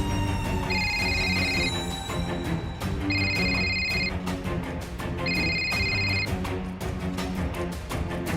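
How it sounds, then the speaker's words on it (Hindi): A telephone rings in repeated bursts of electronic trills, three clear rings over a steady background of music or room noise, fairly loud and close. "किसका फोन है यार?"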